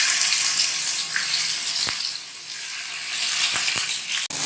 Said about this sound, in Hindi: हमने फ्राई पैन में थोड़ा सा ऑयल लेना है, बहुत ज़्यादा ऑयल नहीं लेना, और हमने कोफ्तों को उसमें फ्राई करना है